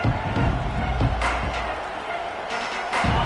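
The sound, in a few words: stadium crowd cheering at football game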